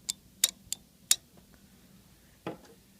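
A relay from a Yamaha RX-V795 receiver clicks sharply as its coil is switched on and off with a 9-volt battery, giving about five crisp, isolated clicks at uneven intervals over near silence.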